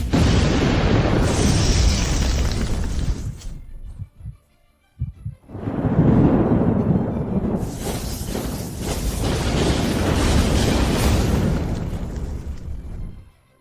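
A doomsday thunder magic attack effect in a fantasy action scene: heavy booming, crackling bursts that fill the sound, break off into a brief near-silence, then surge back in long, loud rumbling waves.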